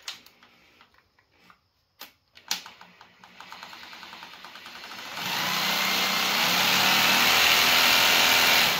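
A few clicks and short bursts, then a steady loud hammer drill in hammer and drill mode rattles into a concrete floor and keeps going without a break.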